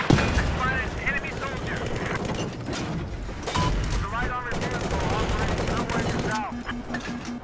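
Gunfire in Battlefield 4 conquest mode, rapid automatic bursts and repeated shots layered over booming explosions, continuous and loud with brief voice fragments under the din.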